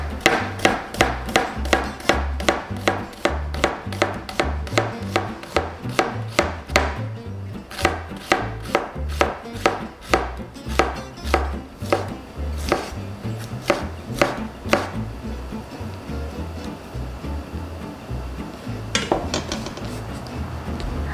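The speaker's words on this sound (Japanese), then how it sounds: "繊維に沿ってじゃなくて繊維に対して垂直に切っていきます" A knife chops a sweet onion across the grain on a cutting board, a fast, even run of sharp crisp knocks that slows into spaced strokes near the end, close and clear with no talk.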